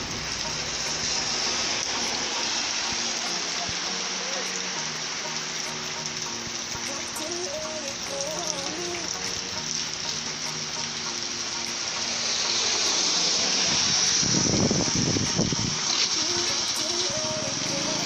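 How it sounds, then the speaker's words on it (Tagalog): Heavy rain in Pandan pours in a constant dense hiss, swelling louder and splashier toward the end. "lumakas na yung ulan dito sa bandang Pandan"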